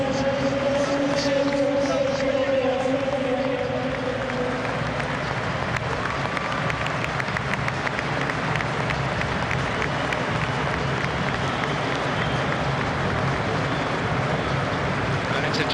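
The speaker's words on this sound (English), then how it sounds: "Swansea's players, unprompted, are forming a guard of honour to applaud Bradford City down the steps" Footballers at a cup final applaud in a guard of honour, a dense continuous wash of clapping and crowd noise, loud and sustained throughout, with a voice speaking over it at the start.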